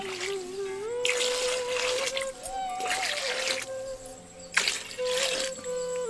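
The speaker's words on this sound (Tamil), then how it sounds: "ஒரு சட்டியில கழுவி எடுத்த நான் ஆட்டுக்கால சேர்த்து வேக வைக்கிறதுக்காக ரெண்டு லிட்டர் தண்ணியை ஊத்தி" Two litres of water poured into a pot of washed mutton trotters for soup, heard as three splashing, gushing bursts with brief lulls between them, close and moderately loud over a steady background tone.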